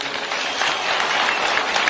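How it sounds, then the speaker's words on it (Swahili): An outdoor crowd at a presidential rally in Siaya claps for the president, a dense, continuous patter of applause that holds at a moderate level for about two seconds with no speech over it. "Wapi makofi kwa rais wetu?"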